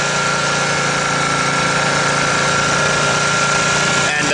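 A Toyota Land Cruiser BJ42 with a 3B diesel engine runs at a steady idle, loud and close, with a constant rumbling clatter throughout and no talking.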